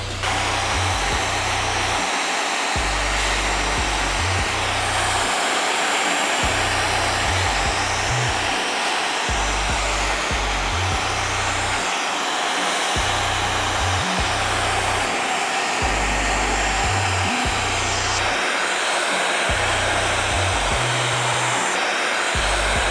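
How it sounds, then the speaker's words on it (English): Handheld hair dryer blowing on its cool-shot setting to set a short mid-fade haircut styled with hairspray, a steady loud whoosh running throughout with a pulsing low motor rumble and no talking. "we're gonna go ahead and use the cool shot on the blow dryer"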